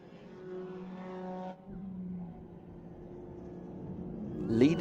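TCR touring race car number 74 leading a race at Grobnik, its engine drone steady across the clip with harmonic tones, dipping briefly then building louder toward the end as it passes near.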